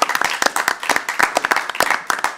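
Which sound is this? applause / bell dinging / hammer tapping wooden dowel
applause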